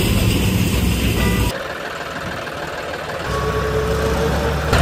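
A diesel tractor engine idles with a loud, steady low rumble during refuelling; the drone dips suddenly partway through, then swells back up to a constant hum.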